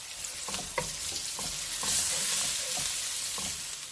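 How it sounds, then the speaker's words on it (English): Noodles for take-out style chicken chow mein frying in a pan with cabbage, a loud, dense hiss of sizzling oil throughout, broken by rhythmic scraping and tossing strokes of a utensil. "for the noodles, I really want to fry these"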